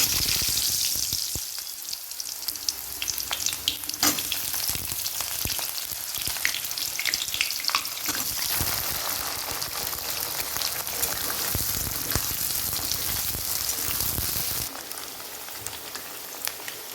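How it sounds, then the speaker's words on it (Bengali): Potatoes frying in a pan of hot oil with cardamom and whole cumin, for a Bengali cabbage ghonto, a steady loud sizzle with scattered crackles and a few stirring knocks, no voices. "আলুগুলো ভেজে নেব"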